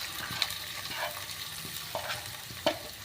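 Sliced onions dropped into hot oil sizzle steadily at moderate volume, with a few sharp stirring clicks and scrapes scattered through.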